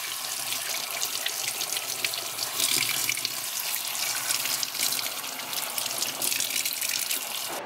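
Cold tap water runs steadily over cleaned sprats in a sink, a close, continuous hissing splash with small fluctuations as the fish are rinsed under the stream.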